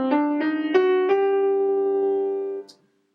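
The top of a harmonic minor scale on a keyboard instrument: four quick rising notes, then a final note held clear and steady for about two seconds before cutting off, played alone without talk.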